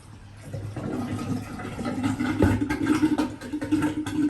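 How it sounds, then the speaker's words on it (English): Warm sugar syrup for limoncello is poured in a steady, gurgling stream for several seconds, rising slightly in intensity as the liquid flows. "I'm going to pour that."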